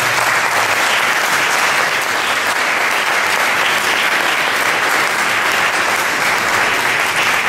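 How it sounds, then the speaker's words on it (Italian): A concert audience at a jazz performance gives loud, sustained applause, dense and continuous throughout without any voices. "a cui fare un grande applauso."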